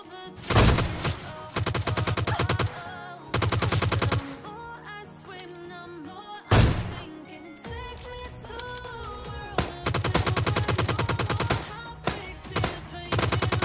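Gunfire in the video game PUBG Lite comes in loud rapid automatic bursts, separated by short pauses and a few single sharp booming shots, with quieter game sounds in the gaps.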